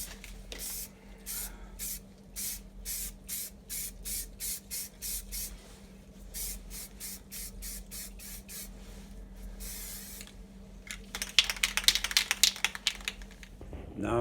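Black paint hisses from a spray can onto a 1992 GMC air cleaner lid in a long run of short, rhythmic bursts, close and loud, followed by a rougher, more continuous spray toward the end.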